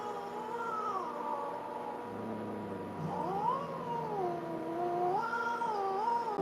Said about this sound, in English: Like a little schoolroom kitty.